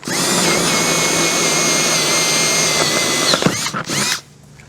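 A power drill bores through 3/8-inch plywood on a box trailer during an RV air conditioner install, a loud steady whine that bogs and sputters as it breaks through, then stops.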